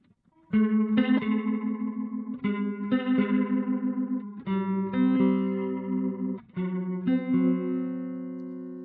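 Clean electric guitar chords swirl and warble through a Boss RT-2 Rotary Ensemble pedal at low gain, strummed several times with ringing sustain, no voices.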